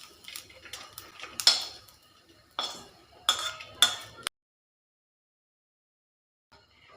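Cooked egg-curry ingredients scraped from a pan onto a plate, heard as a series of close metallic clinks and scrapes of utensil on metal, ending in near silence with a faint final touch.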